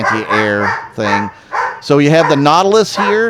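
Dogs bark in a few short, sharp bursts close to the microphone, mixed in with someone talking steadily over them.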